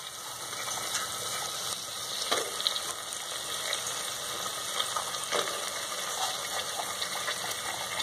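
Eggplant in a mustard masala with turmeric sizzles steadily in a pan, with a few brief scrapes of stirring. The frying is continuous and moderately close, with no voices.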